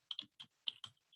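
A search term is typed on a computer keyboard, with five or six crisp, quiet key clicks in an uneven rhythm and near silence between them.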